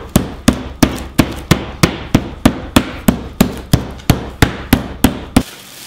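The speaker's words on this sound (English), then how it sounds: "Now to pound this out, kind of want to go in an outward motion." Beef steak being pounded thin under plastic wrap for chicken fried steak, heard as about fifteen evenly spaced, solid thumps in a steady rhythm, close and loud, with no talking.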